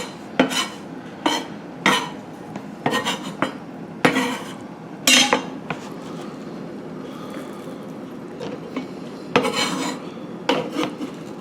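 Chopped onions tumble into a pot of baked beans in a series of sharp, close scraping and clinking knocks of utensil against cookware, irregularly spaced with quiet pauses between bursts, and no talking.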